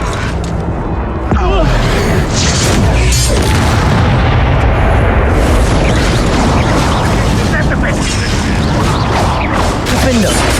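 Confringo explosion spells in the wizarding game Hogwarts Legacy, dense booming blasts and crashes piling into a loud, continuous roar of combat with voices shouting over it.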